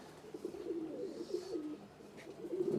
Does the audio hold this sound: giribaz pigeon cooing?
yes